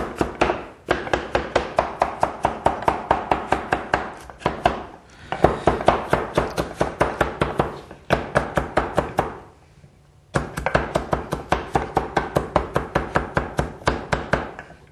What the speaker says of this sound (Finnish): No niin, sipuli. Tää hakkurilla taas näin.